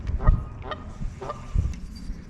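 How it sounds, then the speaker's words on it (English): Goose honking at a pond during a fishing outing on a windy day, a few loud nearby honks in quick bursts with quieter ones trailing off in the background. "there's gonna be a loudmouth goose show up"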